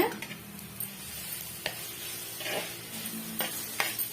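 Snake gourd stir-fry sizzling in a pan while being mixed, a soft continuous frying hiss with light scraping strokes and small clicks of the spoon, close and fairly quiet.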